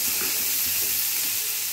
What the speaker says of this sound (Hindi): तो पहले आप शिमला मिर्च और प्याज डाल दीजिए और इसे भूनने दीजिए।